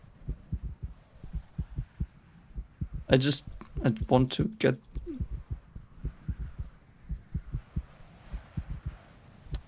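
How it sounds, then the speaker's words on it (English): A horror video game's heartbeat effect: a steady, low double-thump pulse that throbs throughout, with someone talking briefly over it midway. "I love the heartbeat. That makes me anxious. That's a good sound effect."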